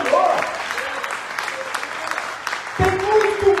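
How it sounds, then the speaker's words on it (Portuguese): Applause from a church congregation, a loud, continuous patter of many clapping hands with voices and shouts rising over it. "Pode aplaudir o nome do Senhor."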